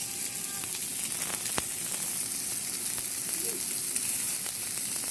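Meat sears in a hot pan at home, giving a steady, close, dense sizzle with a constant hiss that runs unbroken throughout.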